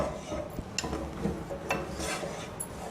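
A ground paste of chilli, ginger, cardamom and spices is sautéed in a pan for veg pulao, with repeated scraping strokes of a spoon against the pan over a low sizzle.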